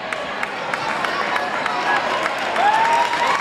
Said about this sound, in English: This crowd cheering for him.